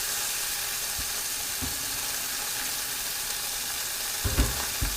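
Beef short ribs searing in oil in a pot, a continuous close sizzle with a few soft knocks and a louder clatter near the end, no talking.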